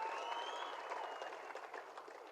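Faint applause from an audience at a Tamil film audio launch event, soft steady clapping heard from a distance with a tonal hum or music trace early on.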